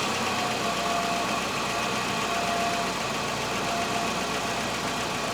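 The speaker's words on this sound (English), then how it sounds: "let's try to adjust the idle. I think 850. So it's a little bit too high right now." A car engine idles steadily while its idle speed is being adjusted, a continuous close mechanical hum with a faint knocking texture that holds even throughout, with no voices.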